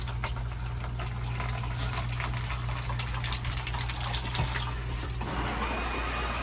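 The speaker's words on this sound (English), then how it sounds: "I'll turn the water on here." Water gushes steadily from a faucet in a 2018 Palomino Puma XLE 20RDC RV, a constant rushing stream that cuts off abruptly near the end.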